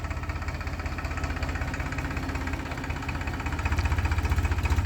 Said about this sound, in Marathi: शेणखत भरण्यासाठी हा ट्रॅक्टर भरतो आणि परत ट्रॉलीत टाकतो